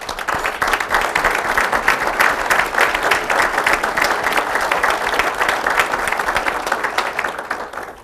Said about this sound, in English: if you'd stand once more for a round of applause